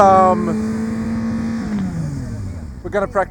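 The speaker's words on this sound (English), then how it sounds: "you can see them over there, practicing and warming up the tires and the engines" Kawasaki ZX-6R and ZX-10RR sport bikes warming up their engines for drag race practice near Västerås, Sweden, a steady droning hum heard from a distance whose pitch slowly falls, with a few sharper bursts near the end.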